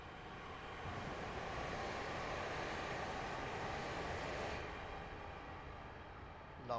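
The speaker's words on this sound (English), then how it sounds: "you can even hear the proper rail sing there" A train in Train Sim World rolling steadily on rails, a continuous broadband rumble with faint high rail sing that swells and then eases toward the end.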